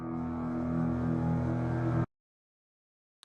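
Dense, droning music in a heavy production plays loud and steady for about two seconds and then cuts out abruptly to total silence, with a brief faint click near the end.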